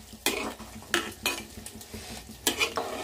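A spoon scraping and clinking against a pot while fish curry with tamarind broth is stirred, irregular scrapes and knocks close by over a soft background hiss.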